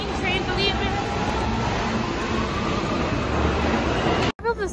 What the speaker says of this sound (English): Let's see the trains are leaving.